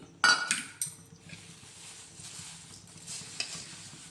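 Crushed poha being stirred in a pan, with sharp metal clinks of a spoon against the pan at the start, then soft scraping and light sizzling that continue quietly.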